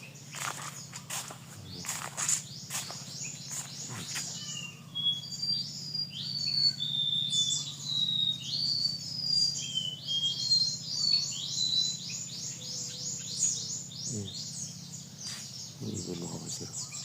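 Birds chirping and calling outdoors near rice fields, a series of high repeated notes through the middle, moderately close, over a low steady hum, with footsteps and a few soft knocks.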